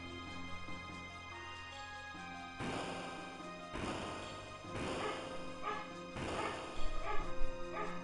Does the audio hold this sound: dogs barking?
yes